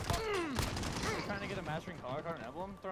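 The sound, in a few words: shotgun fire in Call of Duty: Modern Warfare video game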